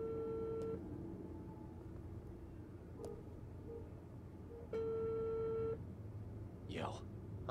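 A phone call placed in the video game Unheard, with telephone tones and beeps sounding in short steady bursts at moderate level over a low background hum, followed by a brief sweeping tone near the end.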